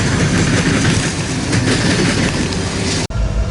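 An empty westbound coal train rolls past at close range in Ashland, Nebraska, a loud continuous rumble with rail clatter that holds steady throughout, cut by a brief dropout near the end.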